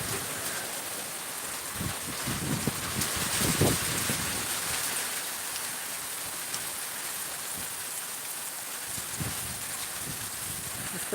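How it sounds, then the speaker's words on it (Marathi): Heavy rain pours down in eastern Miraj in a dense, steady hiss, with occasional louder splashes and soft rumbles beneath the downpour. "मिरज पूर्व बेडक भागा जबरदस्त पाऊस पडला बघा"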